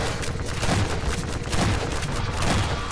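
Rapid gunfire from a weapon in a Half-Life 2 mod, a dense run of loud shots in close succession that fills the whole stretch with no talk over it.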